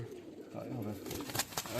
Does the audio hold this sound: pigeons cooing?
yes